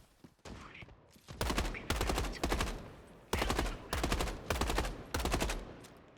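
Rapid bursts of gunfire from a video game weapon, fired in short loud volleys of several shots each with brief gaps between, close and punchy with no talking.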